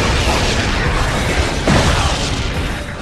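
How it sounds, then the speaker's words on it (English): A big explosion in Ratchet and Clank Future: A Crack in Time bursts out as a loud, dense roar. It swells with a short booming surge partway through, then fades slightly at the end. "Alright, that is a pretty sweet explosion"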